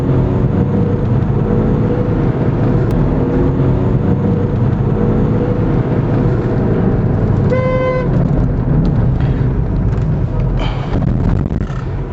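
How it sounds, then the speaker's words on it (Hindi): A Volkswagen Cross Polo's horn sounds once in a short toot, then again in a couple of quick honks, over continuous loud road and engine noise from inside the moving car. "इवन जो पोलो का जो हॉर्न्स होता है वो भी नॉर्मल कार से थोड़ा डिफरेंट होता है"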